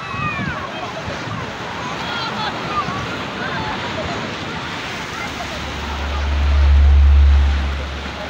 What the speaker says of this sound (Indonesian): Seperti inilah suasana di sekitar Pantai Babah Kuala nih ya